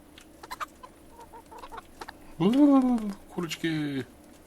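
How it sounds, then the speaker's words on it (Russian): Chickens clucking in the video game Kingdom Come: Deliverance, a few scattered short clucks followed by two loud, drawn-out squawking calls close by, with faint background noise between. "Курочки."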